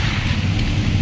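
Rain falls steadily on a motorbike rider in Nasugbu, Batangas, a broad, even wash of noise roughened by wind, with no pauses and no voices.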